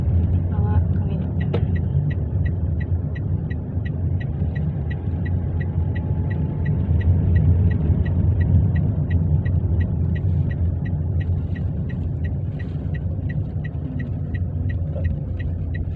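A car engine idles and hums steadily as a learner drives during a driving lesson, a continuous low rumble with a regular ticking above it and people talking over it.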